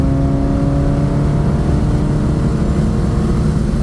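A fifth-generation Chevrolet Camaro SS accelerating under a steady engine pull, a loud continuous low drone heard close from inside the car without talking.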